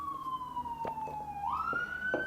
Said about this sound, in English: we're going to have sirens